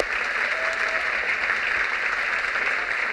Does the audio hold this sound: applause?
yes